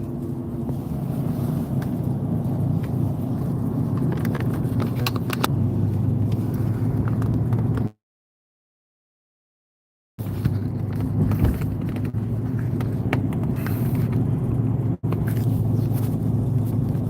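A car driving along a road, steady in-cabin engine and tire rumble broken by a couple of seconds of dead silence and a brief dropout, with no talking.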